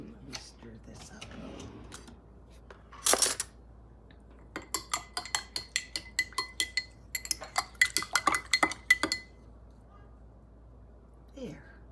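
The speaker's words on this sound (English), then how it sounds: "let me stir this up" A spoon stirring a drink in a cup gives a quick series of bright, ringing clinks, rapid and regular for several seconds, close by, following one louder clatter and a quiet stretch.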